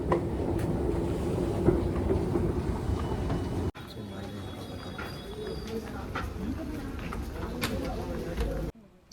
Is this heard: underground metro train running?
yes